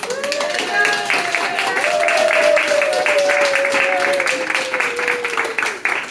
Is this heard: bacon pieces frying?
no